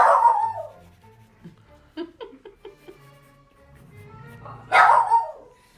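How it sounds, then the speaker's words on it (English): Several dogs bark and yip excitedly in short bursts, with a loud close outburst near the end and quieter yelps between. "Oh, the dogs are going crazy."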